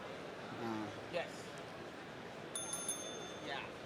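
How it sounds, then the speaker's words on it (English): Bell rung at the New York Comic Con, with a few bright metallic dings at scattered moments over a crowded, murmuring convention floor with people talking. "we ring the bell because we love comics"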